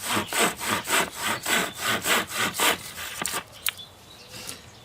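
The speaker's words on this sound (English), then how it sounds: "Now we'll do the Corona razor tooth in the 10-inch version here." A Corona Razor Tooth 10-inch hand saw cuts a 1 to 1.5 inch piece of wood in eight quick, rhythmic rasping strokes, close and loud. A few faint clicks and knocks follow after the cut ends.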